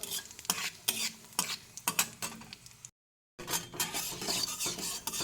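Black cumin seeds and a broken dried red chilli frying in hot mustard oil, with repeated scraping stirs of a spatula over a steady sizzle, close and fairly loud, broken by a brief silent gap.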